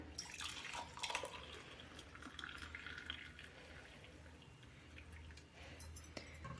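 Water is poured through a filter into a glass, a faint, trickling splash with small drips and gurgles that fades and swells slightly, heard close with no talking.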